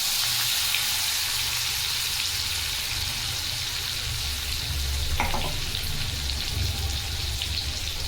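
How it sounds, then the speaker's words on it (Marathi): Cumin seeds and a crushed garlic-coriander paste hit hot oil in a kadhai, giving a steady, loud, continuous sizzle with a brief stirring clatter midway, no voices. "पहिले तेल तापवायला ठेवले कढईमध्ये, त्यामध्ये जिरं टाकणार आणि हा बघा लसूण आणि कोथिंबीरचा मी ठेचा केलाय, तो पण टाकणार"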